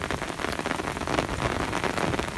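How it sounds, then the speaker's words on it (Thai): Steady rain patters onto the surface during river fishing with a bamboo rod, a dense, even hiss of drops throughout, close and continuous with no voices. "ฝนตกครับ"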